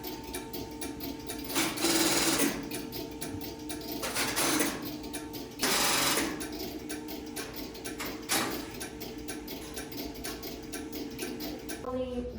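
Antique step-by-step telephone switching machine working in a telephone museum, its switching arm clicking and ticking in rapid mechanical bursts with several louder whirring, rattling surges, close and continuous.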